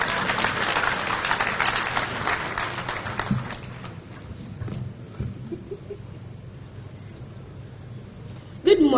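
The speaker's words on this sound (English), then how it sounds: "Can we clap for her, please?" Audience applause at a school symposium, a dense burst of clapping for the first few seconds that fades into scattered claps and room noise. A sharp noise cuts in at the very end.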